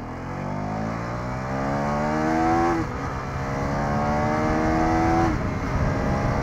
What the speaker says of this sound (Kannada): Okay okay okay KTM Duke 390 Gen 3 ಗಾಡಿ.